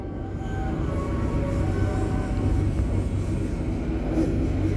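Riding aboard the Joglosemarkerto economy train on the rails, a steady low rumble and clatter of wheels fills the carriage, with faint tonal whines above the droning motion and no voices.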